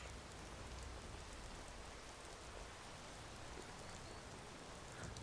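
Steady rain falls in Falkreath in Skyrim VR, an even, continuous hiss of drops on surfaces, soft and unbroken throughout with no voices.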